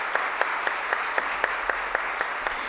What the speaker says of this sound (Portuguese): E uma salva de palmas para vocês